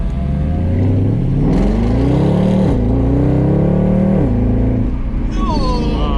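A Mercedes C63 AMG with a 6.2L V8 revs hard, its deep engine note rising and falling in several loud pulls, heard from inside the car while people talk over it.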